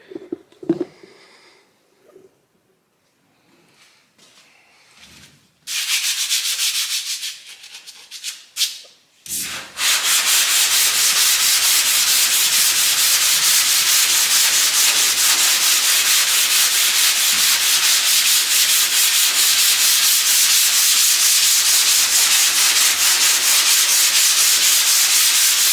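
Hand sanding of poly primer begins after a few seconds of quiet handling and scraping, then settles into a loud, continuous, close scratchy rasp of sandpaper that runs steadily without pause to the end.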